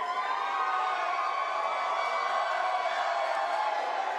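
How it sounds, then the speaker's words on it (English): Crowd noise at a primary election night event in New York City, a steady distant wash of cheering and whoops, fairly faint, with no clear individual voices standing out. "we're hearing more cheering here now as numbers continue to come in"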